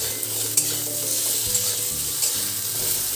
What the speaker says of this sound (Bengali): নেড়ে চেড়ে নিই।